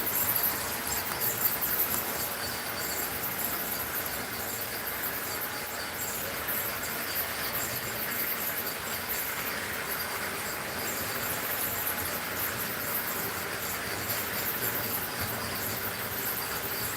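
Model trains run around a layout, a steady, moderately quiet whirring and clattering hiss that continues without pause and with no talking.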